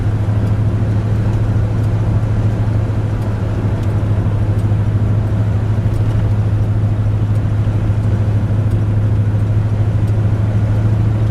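A 1950 Ford Custom Deluxe Club Coupe on the move, giving a constant low engine hum and road noise from inside the cabin, even and steady with no speech.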